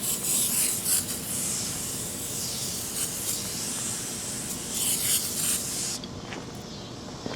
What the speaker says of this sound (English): we're going to try this Tru Grit, which is technically not a degreaser